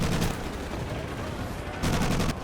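Gunfire crackles in the video game Medal of Honor Pacific Assault, loud bursts of rapid shots at the start and again near the end, with steadier battle noise between.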